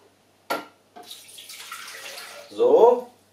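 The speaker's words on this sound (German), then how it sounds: "330 Gramm Wasser in den Mixtopf." Water is poured into a Thermomix TM5 mixing bowl for ciabatta dough, a short gurgling splash near the end after some quieter handling noises, with no talk over it.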